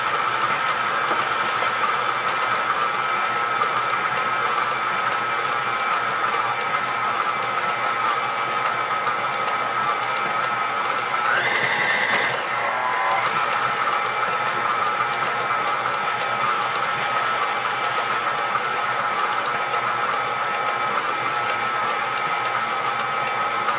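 A KitchenAid stand mixer runs on low speed mixing cake batter, producing a steady, close motor whine and hum with a constant pitch throughout and a brief shift in tone partway through.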